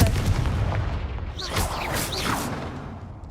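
A Confringo spell in Hogwarts Legacy, a fantasy video game, fires off as a heavy rumbling blast followed by whooshing fiery streaks. It is loud and close, with the rumble lingering under the effect.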